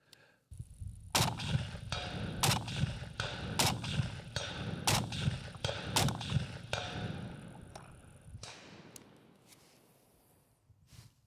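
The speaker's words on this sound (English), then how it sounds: "let's just see how fast we can get follow-up shots on target" PSA Super SASS rifle firing rapid follow-up shots at a 300-yard target outdoors, a string of about eight sharp, fairly distant cracks in quick rhythm, each with a rolling echo tail, followed by a fading rumble.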